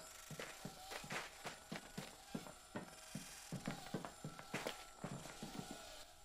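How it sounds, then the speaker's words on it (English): Footsteps of Mirage's decoys in Apex Legends, a quick run of crisp, irregular steps that bunch into bursts and stay fairly close and clear throughout. "let you hear their footsteps"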